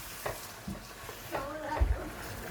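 Bolognese sauce simmering gently in a pan on low heat is stirred, giving a few soft, scattered scrapes and clinks over a faint, steady bubbling.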